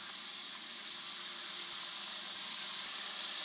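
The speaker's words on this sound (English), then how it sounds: "as the moisture inside of those little tortillas start to fry out, they're gonna make all sorts of crazy sounds" Corn tortilla triangles frying in oil heated to 350 degrees, a steady dense hiss and sizzle with faint crackles, continuous and close, no voices.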